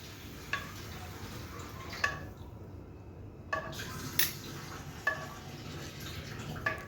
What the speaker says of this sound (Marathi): यामध्ये पण थोडेसे दूध घालून याची पेस्ट तयार करून घेऊया.